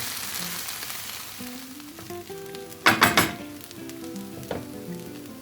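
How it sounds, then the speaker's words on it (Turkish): Bulgur being stirred into a sizzling sauce in a pan for butter bulgur pilaf, a steady frying hiss with a few sharp scraping clatters of the spoon against the pan. "Bulgur pirinçlerimizi bir ekleyelim. Harcımızı güzel bir harmanlayalım şöyle."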